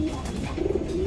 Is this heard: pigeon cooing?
yes